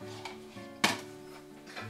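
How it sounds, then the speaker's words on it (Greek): Soup with sheep's yogurt is stirred in a large pot, with a single sharp clink of the spoon against the pot and soft scraping around it, over a low background hum. "Να την ανακατέψουμε καλά."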